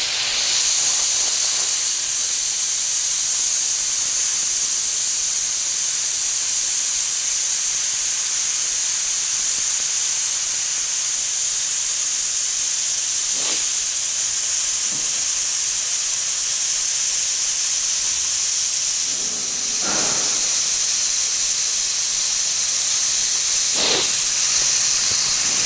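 Air hisses loudly and steadily from a motocross tire as its pressure is set, a close continuous rush with a few short breaks and changes in pitch.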